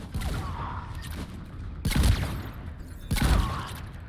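Turret gunfire in Mass Effect 3, heavy bursts of rapid shots arriving in three loud waves with short gaps between them, dense and booming with no talk over it.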